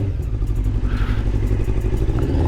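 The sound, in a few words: 1999 Honda CBR 600F motorcycle riding around an estate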